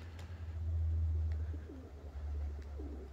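Pigeons coo softly in a dovecote flock on a cold day, a few low rounded calls rising over a steady low rumble of background hum.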